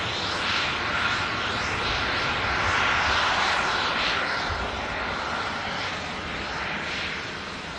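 A Corendon Boeing 737 Max arriving from Antalya at Manchester Airport gives off a broad, steady jet roar that swells in the middle and eases slightly toward the end, fairly distant and with no other sound.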